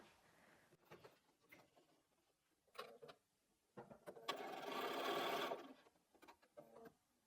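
A home sewing machine stitches a curved log cabin quilt block seam in short bursts, with one longer steady whir in the middle, heard close and fairly quiet.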